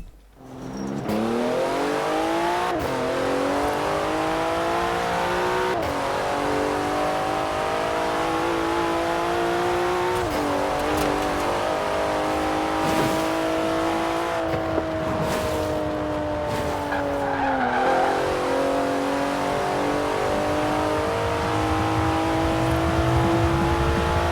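Porsche 911 Turbo S drag racing in Forza Horizon 4, its engine revving loud and close, climbing repeatedly through gear shifts with brief drops between each rising pull, over a steady roar of acceleration.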